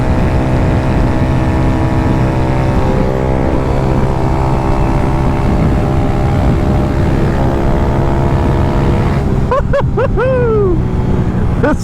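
A 16HP drag bike engine accelerates hard and steadily, its loud, dense harmonic drone holding strong throughout, with a brief rising whine near the end.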